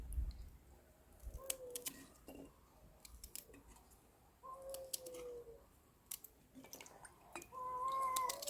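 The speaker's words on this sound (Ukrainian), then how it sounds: "Коти там щось співають." Cats yowling and wailing in the distance, drawn-out cries rising and falling amid scattered clicks and faint background noise.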